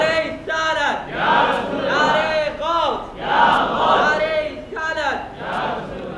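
Crowd at a Milad un Nabi gathering in a mosque courtyard chants religious slogans in call-and-response, loud rhythmic bursts of massed voices repeating every second or so, with brief pauses between phrases.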